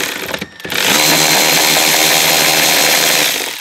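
Loud, steady whirring drone of a power tool driving out a 7mm bolt on a 2018 Chevrolet Silverado 2500HD tow mirror, starting after a brief dip and running continuously close up.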